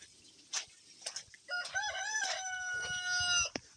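A rooster crows loudly and close by in a long drawn-out call, preceded by a few short clucks from chickens.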